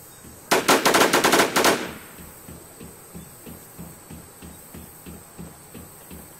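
Gunfire in the video game War Z: a rapid burst of about a dozen loud shots lasting just over a second, then a steady ticking ambient chirp with no talk.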